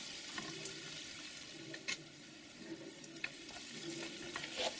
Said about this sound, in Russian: Нагрев я сбавляю до среднего и готовлю содержимое сковороды, периодически помешиваю